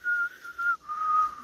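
A person whistles a steady, high-pitched tone in two sustained stretches with a short break between, imitating the shrill whistling of a plant.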